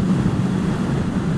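Steady, heavy wind buffeting and low rumble, close and loud, on a 2016 Suzuki GSX-S 1000 motorcycle ridden without a windscreen, with no other sounds breaking through.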